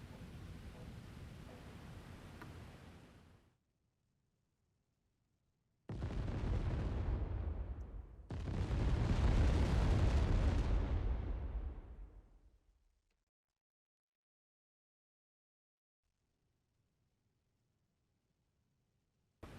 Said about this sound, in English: Actually, nope, bombs are coming down there.